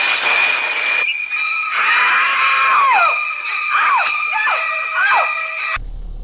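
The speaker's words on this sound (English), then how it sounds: "We included high-pitched strings which creates tension and reflects the screams that would be heard from the Scream Queen." Sustained high-pitched strings hold tense notes with sliding, wailing glides like screams, loud and continuous, from the opening score of a slasher film, cutting off abruptly near the end.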